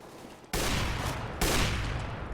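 Counter-Strike gunfire during a competitive ESEA match: two loud, close bursts of rapid shots, the first starting about half a second in and a second burst following about a second later, with sustained crackling between them.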